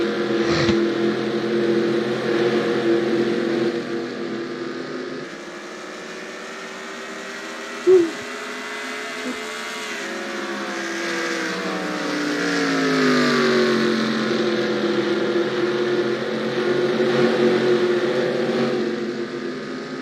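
Race car engines at New Hampshire in the NASCAR Racing 2003 sim, a steady loud drone of several engines with shifting pitch as cars run laps, swelling and easing without any talk.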